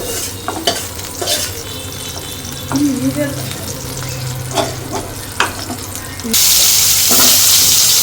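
Eggplant fries in a pan with a continuous sizzle, broken by scraping stirs and clinks, and a louder rushing hiss takes over for the last couple of seconds.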